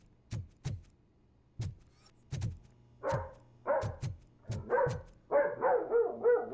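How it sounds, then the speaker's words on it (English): A neighbour's dogs bark close by in a series of sharp, repeated barks with short gaps, growing busier toward the end as several overlapping yips and barks pile up. "That is literally what my neighbour's dogs sound like"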